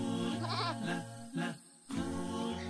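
A goat bleats loudly and close, a few wavering, nasal cries with a short pause between them.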